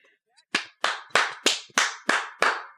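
Seven sharp hand claps from a single person in a podcast studio, evenly spaced and close, each a crisp slap with a short decay, preceded by a faint brief tap.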